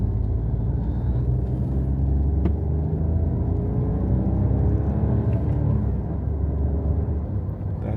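Renault Captur GPL 2024 engine pulling hard in second gear from inside the cabin, a steady low rumbling drone that holds loud and even throughout.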